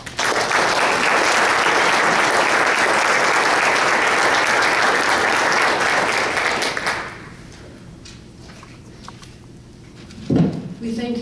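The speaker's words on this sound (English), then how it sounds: "I wonder if we could just give our panel an applause." Audience applause after a smoking ban debate panel, a dense sustained clapping that fills the room for about seven seconds before breaking off, leaving quiet room noise and a brief thump near the end.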